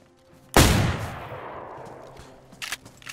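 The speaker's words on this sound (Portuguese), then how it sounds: "Que tiro foi esse?" A single loud gunshot in the survival video game DayZ, a sharp blast followed by a long rolling echo that fades over a few seconds, then some faint clicks.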